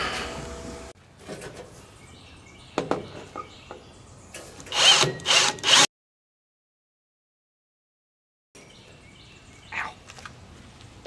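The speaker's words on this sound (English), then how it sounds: "Alright, let's drill this out." A power drill bores mounting holes into the aluminum hull of a jon boat, heard in a few close, loud bursts separated by pauses and a stretch of silence.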